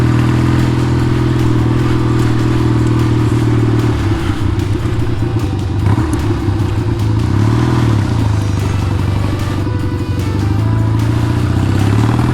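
A vintage Triumph motorcycle engine runs loud and close throughout, a steady mid-pitched drone with throttle changes and mechanical clatter as the rider works the clutch.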